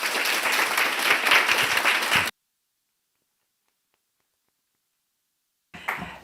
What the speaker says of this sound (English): I'd like to give all of them a round of applause